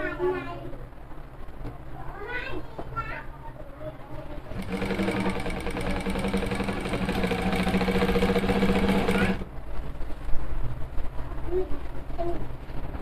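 A home sewing machine stitches clothes in a steady, dense mechanical whir lasting about five seconds, loud and close, with someone speaking before and after it.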